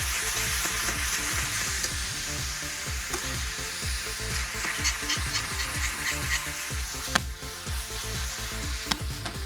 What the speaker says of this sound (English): That gets poured right in here. And you're gonna hear that sizzle, which is what you want.